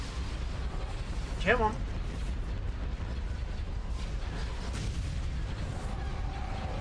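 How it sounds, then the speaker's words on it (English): High velocity cannon firing in the space strategy game Star Wars Empire at War, booming low blasts and mechanical rumbles under ongoing battle noise, with a voice briefly speaking over it. "Absolutely love the high velocity cannon."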